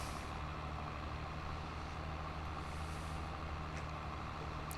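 Heavy diesel drone of a garbage truck idling steadily while its hydraulic arm lifts a dumpster in Farming Simulator 22, a constant low rumble with faint hissing near the end.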